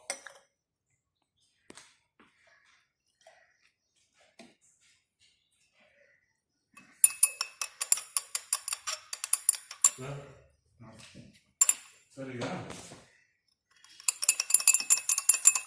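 Glassware in a chemistry preparation of cuprammonium sulphate, where ethyl alcohol is added and stirred: faint scattered taps, then bursts of bright rapid clinking and rattling with short gaps between, with a voice talking in places.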